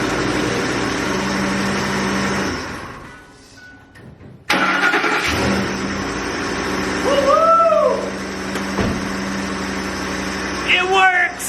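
A repaired pickup truck engine cranks and catches after a lull, then runs steadily nearby, with a few chirping squeals and faint voices over the running engine.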